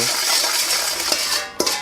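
A spoon stirring sugar, fish sauce and lime juice in a small mixing bowl, a steady scraping swirl with a couple of light clinks against the bowl.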